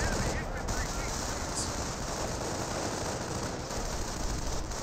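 Machine gun fire in Company of Heroes 1 crackles steadily as a dense, continuous rattle of battlefield gunfire at moderate loudness, with a voice faintly audible beneath it.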